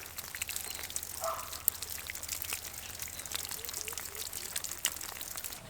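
Cut taro tubers are rinsed in water with soft trickling, pouring and splashing, a faint, continuous wet sound with small drips, and a bird faintly in the background.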